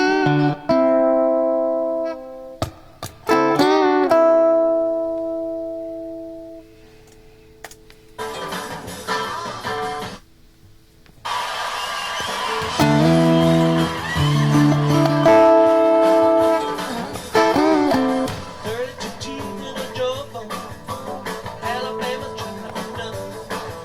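Electric guitar notes ring out, sliding up in pitch as strings are bent, with sparse picked phrases first and then a busier, louder passage.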